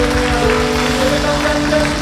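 Congregation applause during a church worship service at a New Year revival meeting, steady dense clapping throughout, fairly loud with music tones underneath.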